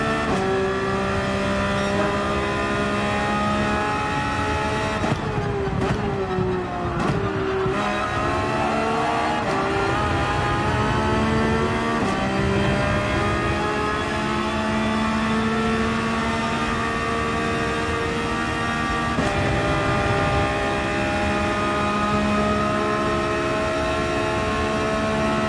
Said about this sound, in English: This Porsche 911 is incredible